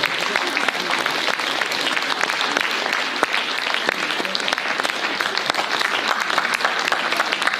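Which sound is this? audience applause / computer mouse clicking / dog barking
audience applause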